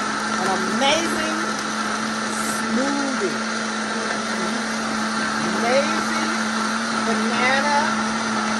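Countertop blender set to speed 10 whirring steadily while blending a green smoothie of dates, almonds and bananas, a continuous motor drone with music or talk running over it.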